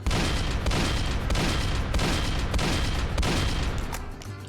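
Rapid gunfire in the Roblox game Dead Rails, repeated loud bursts of shots in quick rhythm filling the whole stretch, with no voices over it.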